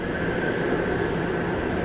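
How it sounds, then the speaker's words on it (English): A train in a Touhou fangame rumbles past at a steady level, its broad, even mechanical roar carrying a faint tonal whine and no voices. "there's a train."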